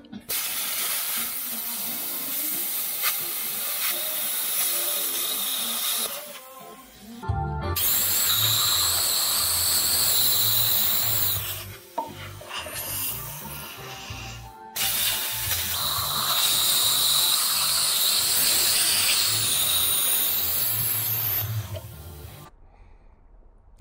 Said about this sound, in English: So right now, he's just hooking up the plasma cutter over here